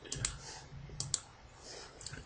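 Mouse clicks while using an address book program written in C#, several faint quick clicks in small pairs, close and quiet with no talking.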